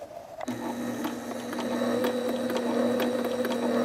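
A sewing machine with an upgraded motor starts abruptly and runs at full speed, a loud steady mechanical whir and hum with rapid ticking that grows slightly louder, no talking.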